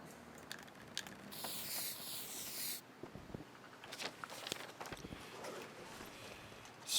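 A spray paint can used inside a building in the survival video game The Long Dark lets out a brief hiss of about a second and a half. It is faint and followed by scattered soft clicks and steps.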